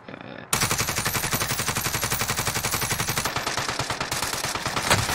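Rapid automatic gunfire in Call of Duty Warzone, a loud, continuous burst of closely spaced shots that starts abruptly and runs nearly the whole time, with slight breaks toward the end.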